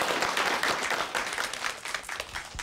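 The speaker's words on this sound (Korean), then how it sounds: "오늘 멋진 강의해 주신 박완순 선생님께 다시 한번 큰 박수 보내주십시오." A studio audience claps for a lecturer at the close of a televised lecture: dense, steady applause that holds at a full level throughout and tapers slightly near the end, with no talk over it.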